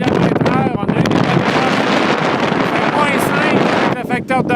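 Strong mountain wind of 70 to 80 km/h on an exposed ridge of the Skyline Trail roars into the microphone as continuous loud buffeting, with a person talking through it.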